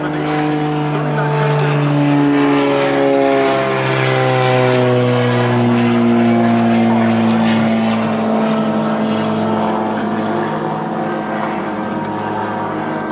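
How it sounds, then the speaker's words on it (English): A propeller airplane drones steadily and loudly overhead, its engine pitch slowly sliding downward as it passes, heard on a television broadcast. "Go airplane."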